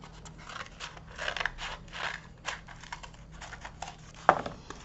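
Scissors snip through a piece of cardboard in short, quiet crunching cuts, with a sharper snap near the end.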